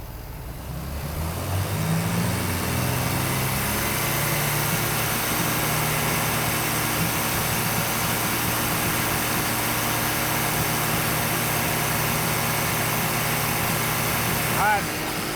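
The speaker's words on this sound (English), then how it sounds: "Rev it up and hold it." A cheap truck engine fitted with a $125 turbo, revved up and held at high revs, giving a loud, steady droning roar that lasts the whole stretch, then drops off sharply at the end.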